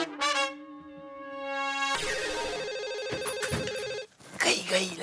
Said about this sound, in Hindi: देख जा रही घंटी जा रही।